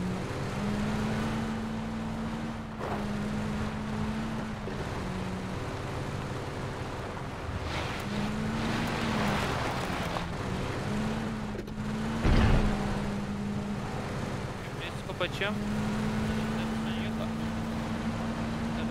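A car in the PUBG video game drives with a steady engine drone that rises and falls in pitch as it shifts, with tires having trouble, running continuously under intermittent voices talking.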